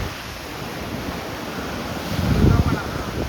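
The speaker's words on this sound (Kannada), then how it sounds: "ಅಲೆ ಅಂತೂ ಸುಮಾರು ಜೋರು ಬರ್ತಿದೆ" Strong waves breaking and surging at Om Beach, a loud, continuous rush of surf with wind buffeting the microphone, swelling to a heavier crash near the end.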